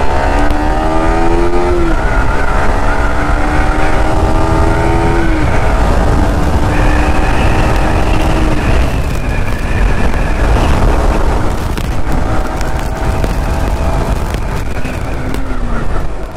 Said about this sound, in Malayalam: ജസ്റ്റ് ഒരു റവ് ചെയ്ത് കാണിച്ചു.